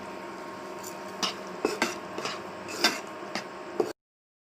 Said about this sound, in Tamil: நம்ம எடுத்து வச்சிருக்கிற ராகியை அந்த பேனில் போட்டு நல்லா வறுத்து எடுத்துக்க போகிறோம்